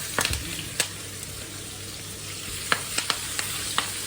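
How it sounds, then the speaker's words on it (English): Pak choy sizzles quietly in a hot pan beside asparagus cooked in butter, a soft steady frying hiss broken by a few sharp crackles and pops, with no talking. "Right, pak choy straight into the pan."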